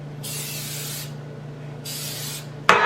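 Cooking spray hisses from a can onto a cake pan in two short bursts separated by a pause, close and clear over a low steady hum, followed by a sharp clatter.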